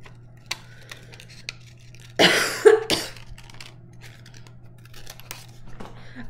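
Paper pieces being cut out with scissors for an Alice in Wonderland escape room game, a close, loud burst of snipping and rustling lasting under a second, followed by faint handling noises.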